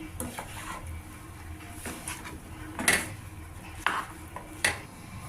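A metal lid set on a pan of brinjal curry cooking on the stove, with several sharp clinks and clatters of metal against metal standing out over a low kitchen background.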